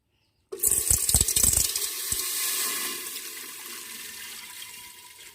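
Water gushes suddenly after a moment of silence into a pot while cooking a Thai curry, splashing hard at first, then settling into a steady pouring stream that gradually softens.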